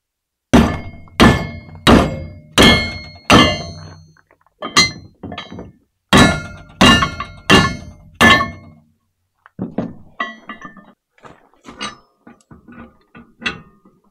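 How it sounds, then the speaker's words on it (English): A hammer strikes stuck bolts in blades with loud, sharp metallic thunks, first in a fast run of evenly spaced blows, then after a pause a second burst, ending in lighter, irregular taps. "So we're trying to find a hammer."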